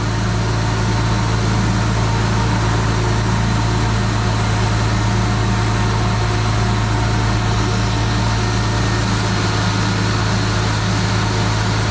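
A supercharged BMW E36 M3 engine idles steadily and close, with a constant low hum and even mechanical drone throughout, no voices.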